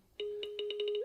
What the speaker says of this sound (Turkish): Dolayısıyla bir önceki betada kaybolan zil sesleri tekrar geri geldi.